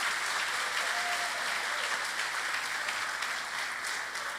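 A church congregation applauding during a service: steady, dense clapping from many people fills the room throughout, loud and continuous.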